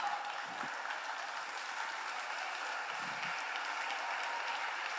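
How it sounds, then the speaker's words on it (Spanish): An audience at a magic show claps steadily after a trick, a continuous, even round of applause from a moderate crowd with no speech over it. "Y si eso pasa, van a aplaudir"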